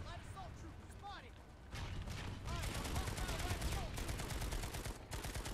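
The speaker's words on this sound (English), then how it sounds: "Dude, where else am I supposed to shoot? I'm shooting right at him." Rapid automatic weapon fire in the PS4 shooter Planetside 2, dense overlapping bursts and fusillades that carry on throughout at moderate level, with faint voices underneath.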